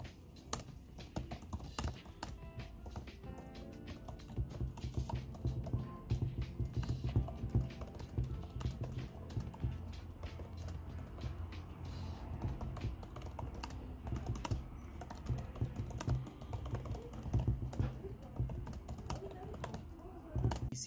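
Rapid, continuous keystrokes on the backlit keyboard of a MacBook Air M1 laptop, a dense clicking patter that runs close and steady throughout.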